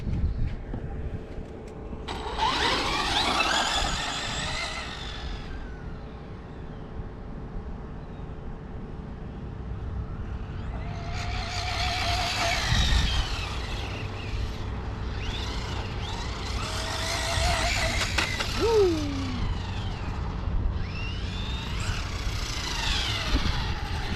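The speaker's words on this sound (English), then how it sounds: "we'll go ahead and run the Slash 4-wheel drive VXL out here just" A Traxxas Slash 4-wheel-drive VXL RC truck on a speed run outdoors, its electric motor whining up in rising and falling pitch as it passes several times, with a quiet stretch between runs.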